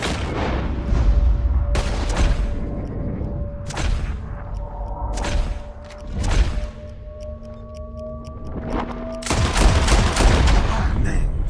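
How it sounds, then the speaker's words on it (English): Gunshots fired at birds flying out of a barrel in Red Dead Redemption 2: a series of sharp, loud, spaced bangs across the whole stretch, some doubled in quick pairs, over a steady background hum and faint ticking. "whoever shoots four birds out of the sky first wins"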